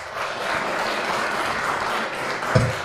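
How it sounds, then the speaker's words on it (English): Steady audience applause at a shared parenting conference fills the room evenly, with a brief louder clap or thump near the end. "Let's give them a round of applause today, please."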